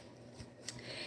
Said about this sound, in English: Let's go ahead and shuffle this up pretty good.